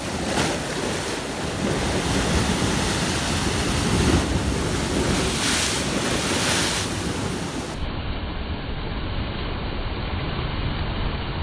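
Rough sea surf churns continuously at sea, loud and close, mixed with heavy wind buffeting the microphone throughout.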